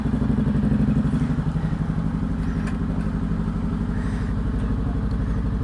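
A Honda CB650R motorcycle with a loud aftermarket exhaust idles and revs nearby, its steady rapid engine pulse running unbroken and fairly loud, alone without talk.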